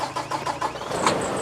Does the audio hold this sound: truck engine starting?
yes